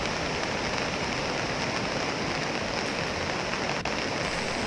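Heavy rain pours steadily during monsoon flooding in Balaghat, Madhya Pradesh, a dense, even hiss with no break, loud and close throughout.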